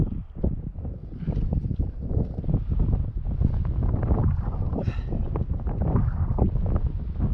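Gusty wind buffeting the microphone outdoors on winter ice, a continuous low rumble with uneven surges, no voices.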